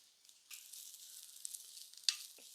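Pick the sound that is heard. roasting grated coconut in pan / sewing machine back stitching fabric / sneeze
roasting grated coconut in pan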